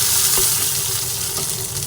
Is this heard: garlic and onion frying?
yes